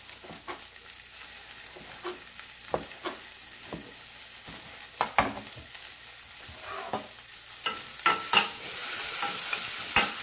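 Onion with tomato puree cooks in a pan, sizzling steadily while a utensil scrapes and stirs in irregular strokes that grow busier toward the end, heard up close with no talk.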